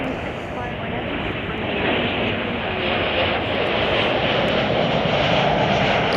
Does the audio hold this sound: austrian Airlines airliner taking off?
yes